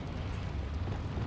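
Incendio fire spell cast in Hogwarts Legacy, a short roaring whoosh of flame with a dense low rumble, loud and continuous for about a second.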